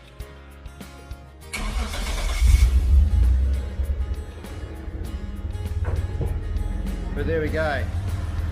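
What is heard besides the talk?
Mitsubishi car engine running after repair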